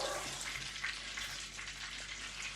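A 100% beef burger fries in a pan with a steady, broadband sizzle that holds at an even level throughout, with no one talking.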